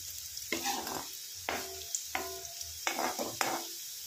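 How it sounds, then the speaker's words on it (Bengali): Sliced bitter gourd frying in oil in a home kitchen pan, with a steady soft sizzle broken by several distinct bursts of stirring and scraping at irregular intervals, close by and without talk. "এবার কিন্তু উচ্ছেগুলো একদমই ভালোভাবে ভাজা হয়ে গেছে।"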